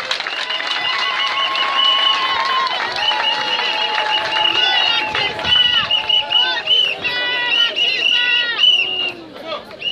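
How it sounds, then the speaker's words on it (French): A crowd at a political rally in Awendjé, Gabon, cheering and acclaiming a speaker, with loud whistles and shouting voices layered over continuous crowd noise throughout. "Sous vos acclamations"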